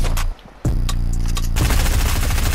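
Video game gunfire ripping out in a dense, loud automatic burst, with a brief dip near the start before the shots resume and continue rapidly to the end.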